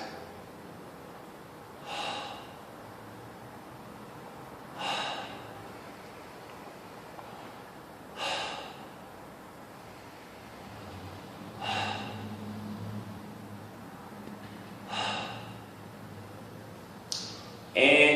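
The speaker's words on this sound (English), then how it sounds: "you can hold that for about 8 to 10 deep breaths" Deep breaths taken through an open mouth while holding a standing back-arch stretch in a no-equipment mobility routine: about six slow, even breaths roughly three seconds apart, close and moderate in level, with no talking.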